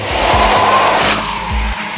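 BMW 760Li sedan with a V12 twin turbo engine, heard as a loud, close, steady roar with rising and falling surges, like hard acceleration through gear changes.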